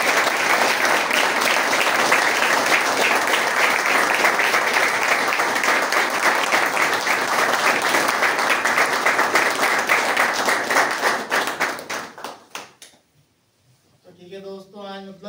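Loud, sustained applause from a group celebrating members reaching two years in recovery, steady dense clapping for about twelve seconds before tapering off, followed by a brief voice speaking.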